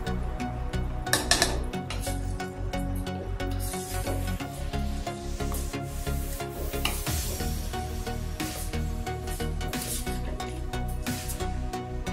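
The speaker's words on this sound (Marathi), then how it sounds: "आपण धुतलेला तांदूळ टाकून घेऊया आणि त्याला थोडं तेलामध्ये फ्राय करून घ्यायचं, फिरवून घ्यायचं" Washed rice sizzles steadily as it fries in hot oil for a vegetable pulav, with a continuous crackling hiss broken by stirring scrapes and occasional clinks of a utensil against the pan, close and unbroken with no talking.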